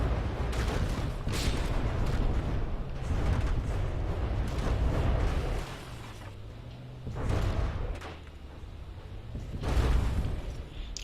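Rolling volleys of booming cannon fire from an airship built of cannons in the game From the Depths, several heavy bursts in a row with a brief quieter lull and a low droning tone between them.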